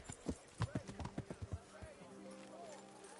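Horse hooves in the medieval game Kingdom Come: Deliverance, a quick run of close clip-clops lasting about a second and a half, followed by quieter ambience with faint voices.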